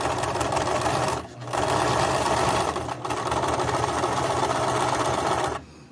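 A sewing machine stitches through thick layers of a fabric mask, running as a fast, steady mechanical whir. It stops briefly twice and then cuts off at the end.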